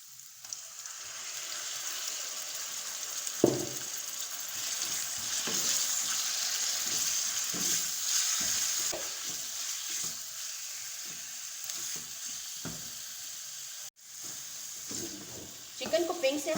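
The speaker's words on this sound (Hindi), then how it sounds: "चिकन को पिंक से हम वाइट होने तक कुक करेंगे।" Chicken sautéing in a pan sizzles continuously with a bright hiss, broken by scrapes and knocks of stirring and a brief cutoff, while a person talks over it.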